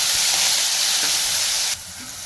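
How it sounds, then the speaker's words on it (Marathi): Cumin and mustard seeds frying in hot oil, a steady close hiss and sizzle that drops in level near the end, with no voices. "जिरे मोहरी तळल्यानंतर मसाला"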